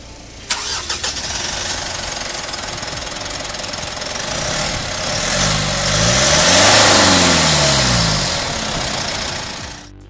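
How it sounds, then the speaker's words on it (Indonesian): A Mitsubishi Pajero Sport Dakar diesel SUV engine cranks and starts, then runs with a loud, rough rumble that swells and settles into a steady idle. "Kita dengerin dulu suara mesinnya"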